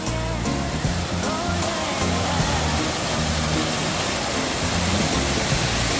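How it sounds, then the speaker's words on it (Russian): A mountain waterfall fed by a natural spring roars as a dense, steady rush of broadband noise, loud and close throughout with no pauses. "а тут получается вот водопад такой"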